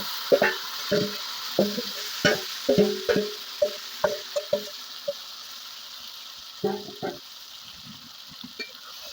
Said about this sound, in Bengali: এখন দিয়ে দিচ্ছি ম্যারিনেট করে রাখা চিকেনটা আমি